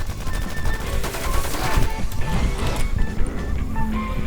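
Machine gun fire in the survival shooter game Infestation: loud, rapid bursts of automatic gunfire in close succession, with game effects mixed in.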